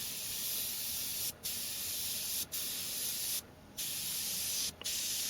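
Badger Xtreme Patriot 105 airbrush spraying at low pressure with a slightly clogged nozzle, a steady close hiss that cuts out briefly four times as the trigger is released and pressed again.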